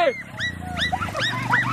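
Sled dogs in a northern Canadian summer setting, the team that pulls an ATV, yelp and howl in a lively overlapping chorus of high whines and barks over a low engine-like hum.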